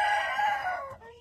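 A rooster on a hen-keeping farm lets out one loud, close crow that falls away toward the end, heard alone without talk.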